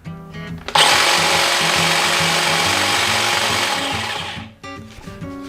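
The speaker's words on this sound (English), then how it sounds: "Okay, DeWalt 20 volt pole hedge trimmer. First use." A DeWalt 20 volt cordless pole hedge trimmer on its first use runs at a steady, loud buzz for about four seconds, starting abruptly and winding down, with quieter mechanical rattling before and after.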